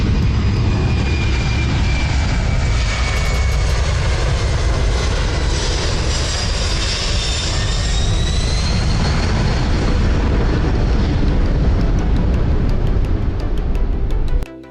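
A Boeing 767 passes low overhead after takeoff, its jet engines giving a loud, continuous roar with a faint rising whine that swells and holds across the flyby, heard without speech.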